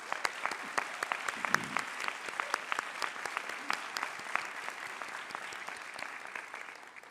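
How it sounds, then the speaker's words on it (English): Crisp, steady clapping from commencement guests honoring students' families and friends, individual claps distinct and rhythmic across several seconds before gradually thinning and fading out at the end. "the family and friends of all of the students here need to get a big round of applause for your support of the students."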